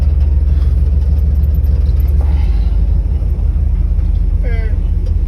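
An old Dodge A108 van pulls in, its engine giving a loud, steady low rumble heard from inside the cab, unbroken for the whole stretch.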